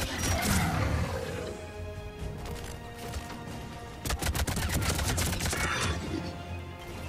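Rapid bursts of assault rifle fire during a Mass Effect 3 battle, close and fairly loud, in clustered volleys with short pauses between them.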